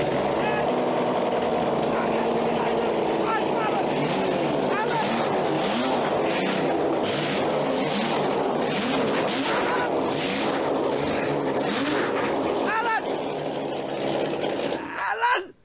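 A kickstarted motorcycle engine revs loudly and continuously close by, with rising and falling throttle bursts, while people shout excitedly over it, cutting off abruptly at the end.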